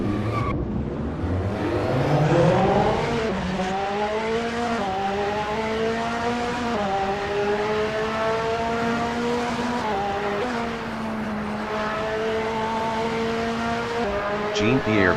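Lola B05/40 LMP2 prototypes with AER engines roar away at a race start, loud rising engine notes climbing through gear changes, several cars blending into a sustained howl, with brief tire squeal.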